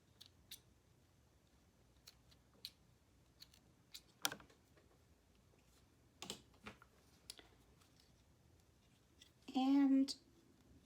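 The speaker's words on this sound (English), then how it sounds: "I'm just going to trim all the thread." Scissors trimming sewing thread, several sharp, close snips scattered irregularly over quiet room tone, with a brief voice near the end.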